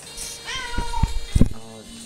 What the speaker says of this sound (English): Dina, you're going to just sit there and meow the whole video, aren't you?